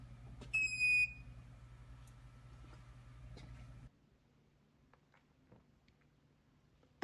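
A few short high electronic beeps from a newly installed RH-01-BB drawer unit right after its power cord is plugged in, over a steady low hum in a quiet room that drops away after a few seconds.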